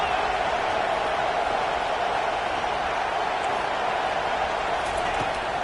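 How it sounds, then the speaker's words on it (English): A stadium crowd roars steadily during a fourth-down stand in the College Football 25 video game, NC State versus Michigan, a dense, constant wall of cheering noise with no breaks. "This crowd busting the decibel meter and trying to will a fourth down stop."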